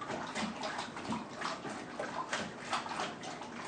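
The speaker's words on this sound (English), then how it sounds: "After you've got it properly dissolved, then you want to add up to the 23 liters mark." Tap water runs and sloshes into a home-brew lager fermenter being filled toward 23 liters, a continuous close rushing with small gurgling bursts.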